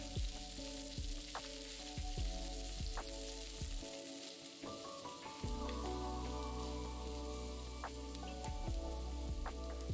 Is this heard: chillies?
yes